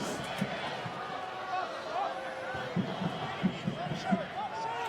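A soccer stadium crowd at a Sacramento Republic FC versus Arizona United SC match keeps up a steady, distant roar with a few louder swells, heard beneath a commentator talking throughout.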